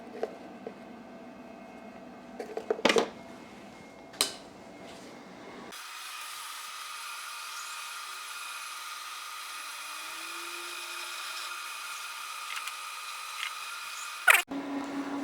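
A Precision Matthews PM-1228 lathe machines cast iron, first with a few sharp clanks and knocks, then settling into a steady, moderately faint motor hum and cutting hiss that runs to the end.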